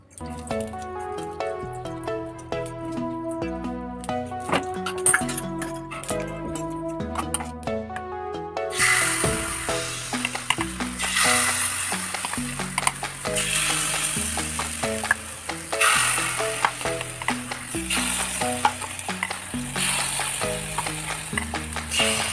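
Mung dal appe, a second batch with fresh oil and onion, fry in an appe pan, giving a steady close sizzle with crackles and drips throughout, getting louder and busier partway in; no one speaks.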